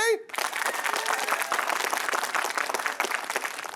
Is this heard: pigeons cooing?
no